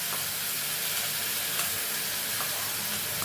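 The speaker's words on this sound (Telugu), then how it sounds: "ఫస్ట్ మనం ఈ ఉల్లిపాయలు వేసేద్దాం తాలింపులో." Grated onions sizzle loudly in hot tempering oil, a continuous dense crackling hiss with faint stirring, no talk.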